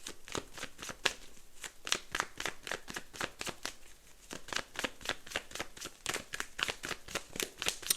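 A deck of tarot cards is shuffled steadily by hand, a rapid run of crisp riffling slaps repeating for several seconds, close and fairly quiet with no voices.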